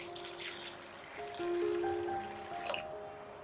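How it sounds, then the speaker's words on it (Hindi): Water pours from a cup or glass onto arhar dal in a bowl, a close, continuous splashing trickle with tonal ringing that swells midway and then cuts off near the end. "इसमें मैंने 1 कप या 1 ग्लास पानी डाला है।"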